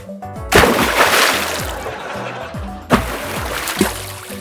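Water splashes loudly and close as an otter plays, two big sloshing bursts with churning spray between them, while a faint voice murmurs underneath.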